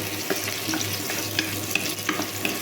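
Onion frying in oil with a little salt, giving a steady, close sizzle and crackle with small scattered pops and light stirring clicks, and no voices.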